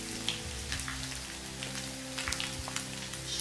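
Marinated beef fillet medallions frying in a hot pan, a dense continuous sizzle and crackle with scattered pops, moderately close and steady, no voices.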